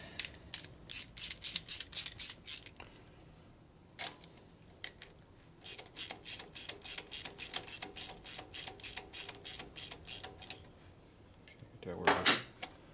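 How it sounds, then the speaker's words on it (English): A ratchet with a long extension clicks rapidly in bursts while tightening a fastener on a 1965 Harley-Davidson panhead 74ci FLH motor, crisp close ratcheting strokes in repeated runs with short pauses, ending in a louder burst. "So I need a long extension to tighten it from the other side."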